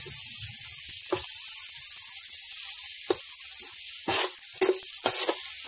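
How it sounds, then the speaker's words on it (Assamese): Arum root (cham kochu) frying in a pan for chutney gives a constant bright hiss of sizzling oil, broken by a few sharp clicks and taps toward the end. "এতিয়া মই এক মিনিটমান সময় এই চাম কচুখিনি ভাজি ল'ম"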